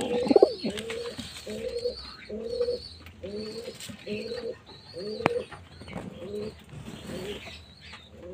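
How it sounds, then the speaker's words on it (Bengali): Pair of Fulshira-line pigeons cooing in a loft, a steady series of soft, repeated rolling coos at a regular rhythm, close and moderately loud with faint background chirps. "এখানে ছাবগা দুটো পায়রা জোড়া বসানো হয়েছে।"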